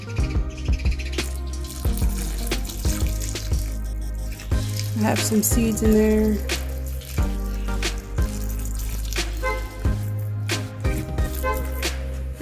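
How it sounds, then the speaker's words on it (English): Water is poured onto potted jalapeno and bell pepper plants in a steady, close-up trickle and splash, running beneath a person talking over a low constant hum. "I have to give them a quick watering."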